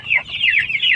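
Chickens cluck and chatter up close in a brief burst of quick, overlapping calls.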